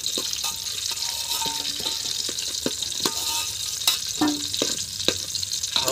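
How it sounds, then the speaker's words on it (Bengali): Potato pieces fry in oil for a chicken biryani, a continuous close sizzle broken by sharp clinks and scrapes of a spatula stirring in the pan. "বন্ধুরা আলুগুলো ভাজা হয়ে গিয়েছে"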